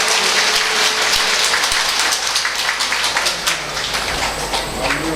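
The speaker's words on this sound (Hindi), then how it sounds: "तालियों से आप लोग" An audience at a Bhagwat Katha religious gathering at Rishishwar Mandir, Lohaghat, claps loudly and steadily throughout, a dense rattling wash of many hands with no voices on top.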